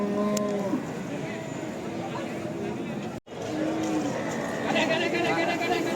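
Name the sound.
cow mooing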